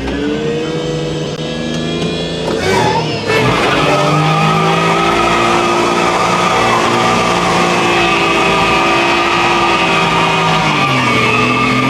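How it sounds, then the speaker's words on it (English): A supercharged Daihatsu Midget mini truck spins a burnout donut. Tires squeal loudly and continuously over a revving engine, with a sharp burst of screech early on. "if you're wondering, John, the world's smallest truck does the world's smallest burnouts, but it does burn out."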